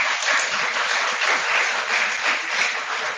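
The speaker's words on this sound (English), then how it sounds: "You can have a round of applause for all of you that you are doing a right stream here." At a rural management school session, an audience gives the students a round of applause. The crowd claps in a dense, steady, moderately loud wash that rolls along evenly and lasts a few seconds.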